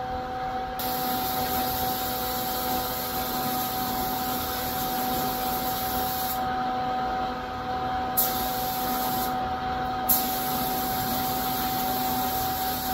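Spray gun fitted with a 2.0 nozzle laying down a coat of very large pearl paint on a Dodge Charger, a steady loud hiss of compressed air running almost continuously with two brief pauses near the end.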